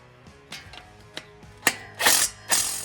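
Tightening header bolts on a Chevrolet Silverado with long-tube headers, a series of close mechanical ratcheting clicks and short bursts of a power tool buzzing, growing louder toward the end.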